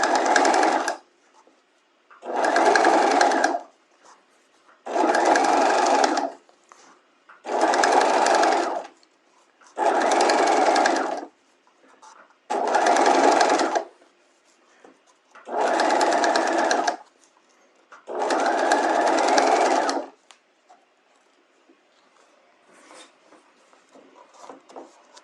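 A sewing machine stitches a bias facing onto a dress bodice neckline in eight even bursts of close, steady whirring, each a couple of seconds long and separated by short silences, then quiet at the end.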